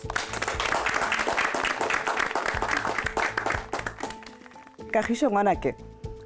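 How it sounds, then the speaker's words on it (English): A studio audience on a cooking competition dinner episode claps warmly for several seconds, the applause fading out before a person begins talking near the end. "So give yourselves a warm round of applause."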